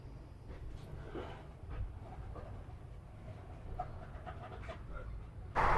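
A passenger train on the Sealdah–Lalgola line runs at speed after leaving Dum Dum Junction at night, a low steady rumble with faint clicks of wheels on rail and a sudden louder rush at the end.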